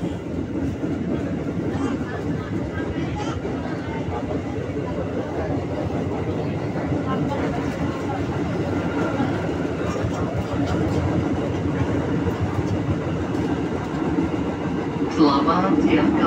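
Steady rumble and rolling clatter aboard a KRL electric commuter train heading to Bekasi from Jakarta Timur, continuous close interior noise with faint voices in the carriage.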